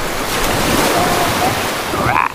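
Sea waves wash continuously on the beach at Cagbalete Island in Mauban, Quezon, a loud broad surf roar mixed with gusty wind buffeting the microphone.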